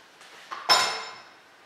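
A pot of green chili verde set back down on a stove, a light metallic clink and scrape ending in one brighter clank that rings briefly and fades.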